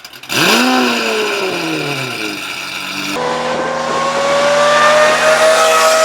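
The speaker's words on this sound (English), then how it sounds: "it was known as the best sounding Aventador exhaust" A Lamborghini Aventador V12 with an aftermarket exhaust screams up and drops through the gears, loud and close, with a sharp, raspy exhaust note.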